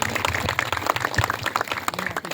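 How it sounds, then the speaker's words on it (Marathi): An audience at a Marathi Khel Paithanicha game-show event applauds for Archana, with loose, scattered claps of varying strength and one heavy low thump partway through. "जरा टाळी वाजवा अर्चनासाठी"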